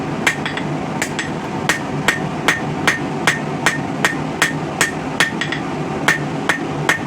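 Steady hammer blows on a steel bar at an anvil, drawing out a taper for a blacksmith-forged backscratcher, about seventeen evenly spaced ringing strikes with a few quick extra taps, close and loud over a low forge hum.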